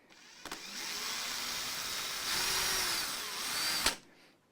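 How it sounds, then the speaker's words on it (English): A power drill whines steadily for several seconds, drilling pilot holes for grub screws on a vintage Stratocaster guitar, its pitch shifting slightly as it bites, then stops abruptly; nearby and fairly quiet, no talking. "I can drill now in a minute down into them"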